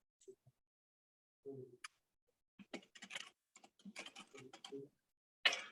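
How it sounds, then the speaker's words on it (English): Sparse, irregular keystrokes tap on a computer keyboard in short bursts with quiet gaps between them, heard nearby at low volume. "All right, I'm typing away."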